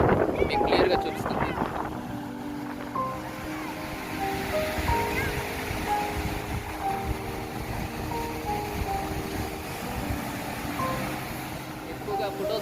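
Ocean surf at Ramapuram Beach, a continuous roar of waves with wind buffeting the microphone and someone talking over it throughout.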